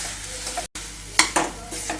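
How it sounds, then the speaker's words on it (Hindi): A spoon stirs cauliflower stuffing with chopped coriander in a hot pan, with soft scraping and a low sizzle. There are a few short scrapes, close and moderately loud, with no voices. "काटा हुआ धनिया डाल के इसे हम हिला दें और स्टफिंग को हम और 2 मिनट तक इसे पकाएंगे"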